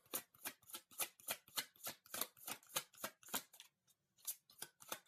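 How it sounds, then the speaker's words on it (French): Tarot cards shuffled by hand, a fast run of crisp riffling snaps in a steady rhythm, a short pause, then more shuffling, close and alone. "Je sors une carte supplémentaire."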